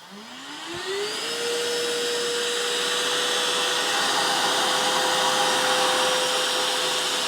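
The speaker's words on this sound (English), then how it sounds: "Let's turn on the vacuum and see what we get." A Ryobi SWIFTClean spot cleaner's vacuum motor starts up with a rising whine, then settles into a loud, steady roar and high-pitched hum that runs on alone with no talking.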